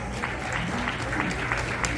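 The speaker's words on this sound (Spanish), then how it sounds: "Fuerte el aplauso para los papás." Guests at a baptism party applaud the parents, a dense, lively round of clapping close by that holds steady for the whole moment, with background crowd noise and music underneath.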